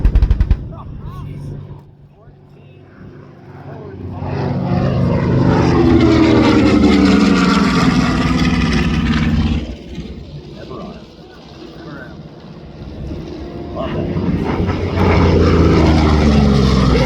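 A PBJ bomber, carrying heavy ordnance, flies past at a military airshow, its piston engines swelling into a loud, deep propeller roar that peaks and fades, then builds again, with an announcer talking over the crowd.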